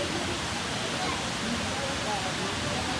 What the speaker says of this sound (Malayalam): രണ്ടാമത്തെ ഷട്ടർ തുറന്ന് വെള്ളം വന്നുകൊണ്ടിരിക്കുന്നുണ്ട്.